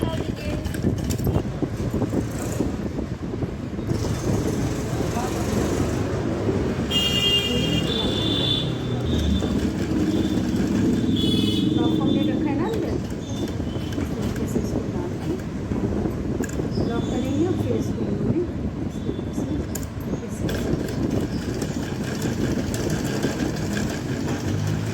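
A sewing machine runs in steady, continuous bursts while stitching the corners of a cloth baby nappy (langoti), its mechanical whir fairly close and loud with a low hum throughout, accompanied by some talking.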